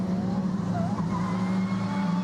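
An Aston Martin race car crashes during the Nürburgring 24-hour race, heard as a sustained scrape and tire squeal over a steady engine drone with no voices.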